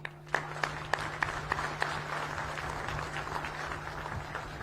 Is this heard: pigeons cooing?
no